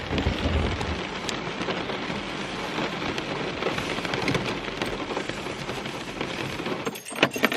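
Heavy rain drums on a parked car in a car park, a dense, loud, steady patter that fills the whole stretch, with a brief dip and a few sharp taps near the end.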